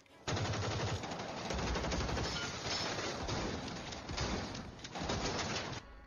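Rapid sniper rifle gunfire in a film action scene, loud and continuous, with dense overlapping shots throughout and a brief lull near the end.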